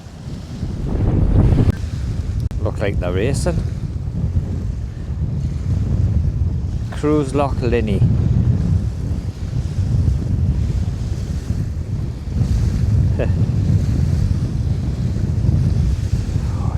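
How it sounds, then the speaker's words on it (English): Strong, freezing wind roars and buffets the microphone throughout on the coast of the remote Scottish Highlands, with waves washing in the background and a few brief spoken words over it. "It's quite windy, it's freezing as well."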